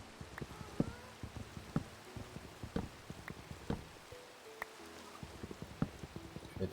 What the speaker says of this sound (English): Is the rain stopping? Okay, it's calming down slightly.